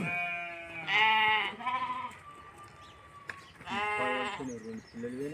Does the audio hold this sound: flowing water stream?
no